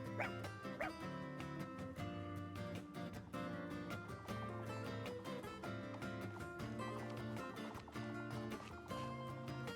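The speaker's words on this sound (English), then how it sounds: "We can observe this dog." A dog barks in the Switch game Fire Emblem Engage, several short yips scattered through a loud, steady bed of game music that keeps the barks partly masked.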